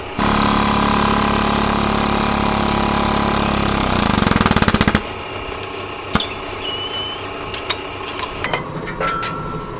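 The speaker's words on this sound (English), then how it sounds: "I've got it transferred to the plasma table computer, getting ready for cut." A CNC plasma table cuts a metal dimple die part in a shop, giving a loud steady hiss and roar for about four seconds. A rapid crackling burst follows, then it cuts off, leaving quieter shop clatter and a few sharp knocks.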